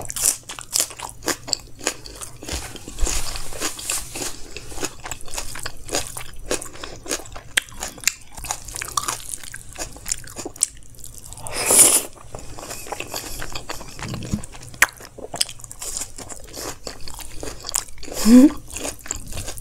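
Close eating of chole chawal, kadhai paneer and mint paratha, with steady crunchy bites and wet chewing continuing throughout in a loud, near, rhythmic stream.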